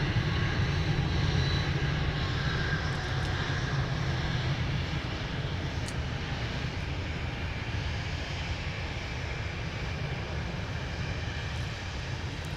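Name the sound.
Air France jet departing MSP airport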